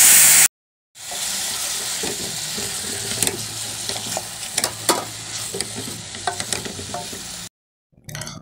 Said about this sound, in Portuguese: mexe bem pra misturar os temperos.